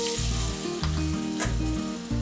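Pressed bottle gourd and rice flour fritters sizzle loudly in hot oil in a kadai over a medium flame, a close, continuous bubbling crackle.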